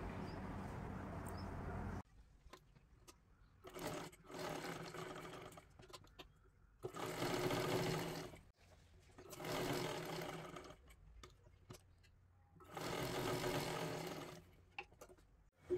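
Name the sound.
sewing machine stitching blouse sleeve lining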